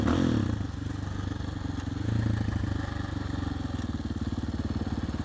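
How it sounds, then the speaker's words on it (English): Engine of a KTM 500 dirt bike riding on a street road, a steady close, loud throbbing drone with fine rapid firing pulses and a slight swell in revs partway, continuous with no talking. "riding a dirt bike on the street"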